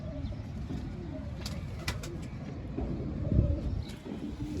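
Soft, low cooing of pigeons rolls on steadily in the background, with a few sharp clicks and rustles nearby.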